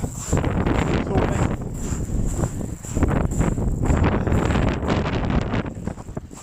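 Strong wind roars continuously across the microphone on Shakespeare Beach in Dover during a sea fishing session, a loud steady buffeting with gusty swells.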